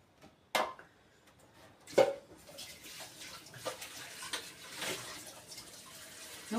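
Water is poured from close by into a pot of meat-stuffed peppers, a steady splashing rush with a couple of sharp knocks against the pot near the start.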